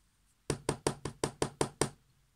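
Knocking on a door: seven evenly spaced, sharp knocks in a quick steady run, close and clear with no other sound around them.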